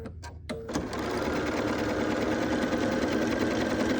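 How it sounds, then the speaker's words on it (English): Sewing machine stitching quilt block fabric, starting after a couple of short taps and then running steadily and loudly at a constant whirring pace close by. "sew the other side up"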